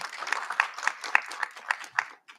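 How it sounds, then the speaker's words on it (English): Scattered applause at a Black History Month convocation, a small group clapping in a quick, uneven rhythm with individual claps standing out, tapering off near the end. "One more round of applause for him."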